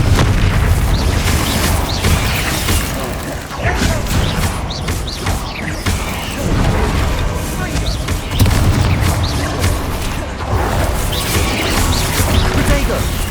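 Repeated booming blasts and crashes of the Confringo fire spell during combat in Hogwarts Legacy, loud and dense, overlapping with other spell impacts and a voice calling out spells.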